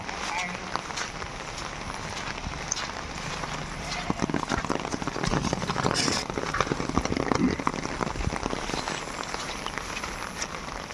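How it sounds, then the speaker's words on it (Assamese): Steady, dense rainfall hisses across the whole stretch, with scattered louder patters and some faint talk underneath, during a fishing outing. "বহুত বৰষুণ, নেৰানেপেৰা বৰষুণ দিছে আজি ৰাতিপুৱাৰ পৰা"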